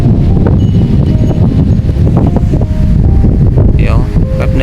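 Strong wind sweeps across an open rural rice field in Surin, Thailand, a loud, steady, low buffeting roar that fills the whole clip, with a brief faint voice-like trace near the end.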